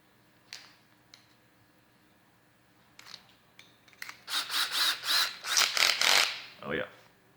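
A power drill with a 1 1/8 inch bit hogging out a hole in a plastic Halloween skeleton: a few brief buzzes, then a series of louder rasping grinding bursts in quick succession before stopping.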